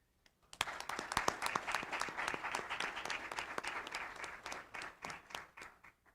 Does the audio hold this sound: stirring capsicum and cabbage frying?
no